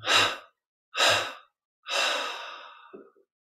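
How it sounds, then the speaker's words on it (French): Three deep exhalations through mouth and nose during a guided meditation, each a long breathy rush close up, evenly spaced, the last one longer and trailing off with a faint catch. "Et 3 expirations par la bouche et le nez"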